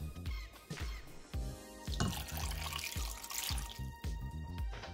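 Water splashes and trickles into a pot over pig's feet in short bursts, with clinks and drips between pours, fairly quiet and close.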